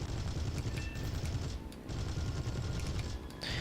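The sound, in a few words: aircraft cannons firing in the video game War Thunder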